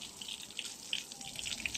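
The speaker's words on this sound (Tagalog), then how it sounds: "ang laki ng volume na tubig na papasok" Water rushing into the strainer of a ram pump, a steady close hiss of flowing water with small splashy bursts, no talking.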